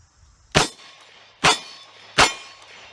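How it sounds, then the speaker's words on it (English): Three sharp, loud shots of .38 Special +P ammunition from a small revolver, evenly spaced about a second apart, each a crisp crack that fades quickly, with quiet between them and no voices. "Now I'm going to shoot the plus P and see how that feels."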